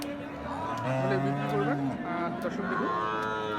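A Sahiwal cow gives a long, close, drawn-out moo followed by shorter lowing sounds at a busy cattle market, with faint voices in the background.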